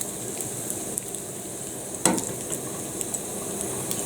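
A ham and sausage omelette fries in a pan with a steady low sizzle, broken by a few soft utensil taps and one sharper clink midway; no voices.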